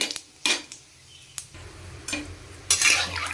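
Tempering biulir dal with bay leaf, dried chilli and fennel in ghee, heard as sharp clinks of a spoon against a pan and brief stirring scrapes over a faint sizzle, close and intermittent.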